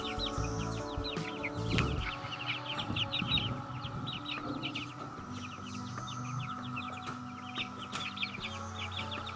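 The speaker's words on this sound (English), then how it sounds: "Yep, there you go, chickens." Several chickens cluck and chatter steadily throughout, a busy flock close by with some clanking and handling noises underneath.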